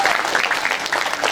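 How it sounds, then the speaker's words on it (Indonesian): A crowd claps at a Ramadan children's religious school event, a short burst of dense, lively applause close by. "Beri tepuk tangan."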